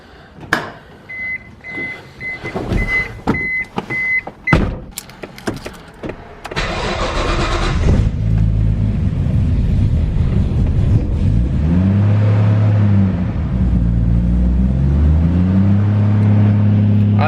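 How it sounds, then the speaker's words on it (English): A Nissan SR20DET engine on old E85 cold-starting: a few clicks and chimes, then a whining crank, then the engine catches and settles into a loud, steady idle with slight rises and dips in revs, close up and without speech. "let's see how she goes for a first start since I have been back"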